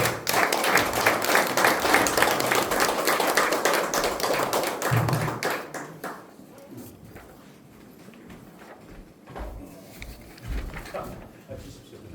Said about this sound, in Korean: 뜨거운 박수를 맞으십시오.